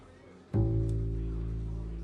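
A single low bass guitar note rings out after a brief quiet moment, sustaining steadily and fading slowly.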